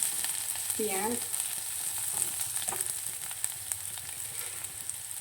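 Onions frying in hot oil in a wok (kadai) while preparing pasta, a steady broadband sizzle running throughout with a brief scraping stir near the start, close and moderately loud, no talk.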